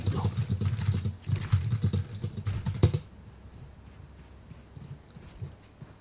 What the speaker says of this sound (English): You just hear my typing sounds